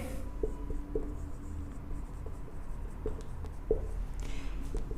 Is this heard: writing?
yes